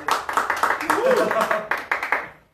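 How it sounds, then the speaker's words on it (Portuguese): Studio audience applause for two flamenco musicians being introduced at a live dance and music show, a dense run of hand claps lasting a couple of seconds under a faint voice before fading out. "para aplauso de quem está em casa, seu Rodrigo Morales e seu Alexandre Cardoso"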